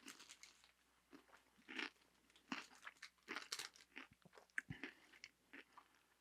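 Chocolate honeycomb candy crunches loudly between the teeth in close, crisp bites, a string of brittle cracks and chewing crackles with brief pauses between them.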